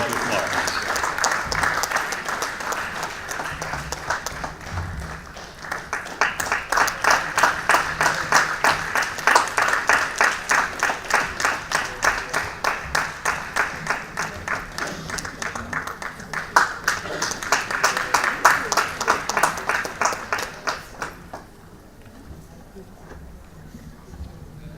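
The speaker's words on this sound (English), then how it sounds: "Can I request you all to applaud?" An audience at a panel discussion breaks into long, sustained applause with rhythmic, rapid clapping that swells and eases several times before fading to quiet.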